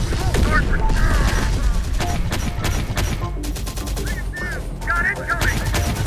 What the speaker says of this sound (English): We are taking fire. We got enemy fire on our position.